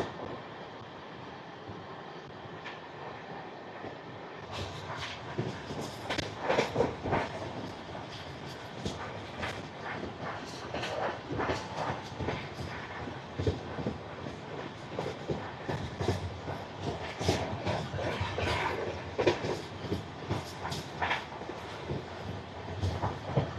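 The Kakinada Port–Mumbai express rolls along a single-line electrified route in a steady, moderately loud rumble. Repeated wheel clatter and rail clicks sound throughout, with no talking.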